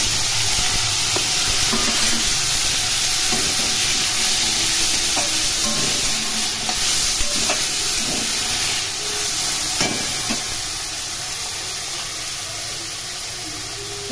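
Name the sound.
spiny gourd and potatoes frying in oil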